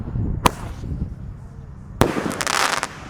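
A multi-shot firework set in the ground bursts with two sharp, loud reports about a second and a half apart. The second is followed by crackling and hissing, and people talk and react in the background.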